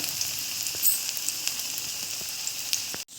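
Onion and potato vada fry in hot oil with a steady, close bubbling sizzle and scattered pops, ending in a sudden cut.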